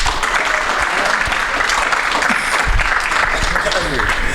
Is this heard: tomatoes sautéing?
no